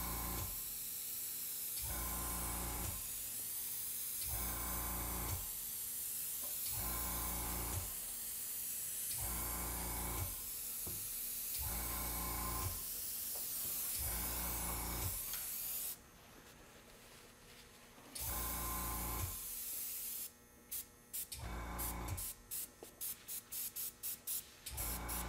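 An airbrush spraying makeup color onto a face for a witch character, giving repeated steady hissing bursts in a regular on-off rhythm and then shorter spattering puffs, close and fairly quiet.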